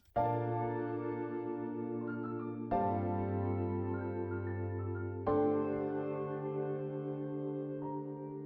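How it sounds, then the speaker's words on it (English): Piano in a beat plays sustained chords that double the other instruments' notes, three long held chords struck in turn and left ringing, alone with no voices. "I added another piano, which again plays the same notes as the other instruments"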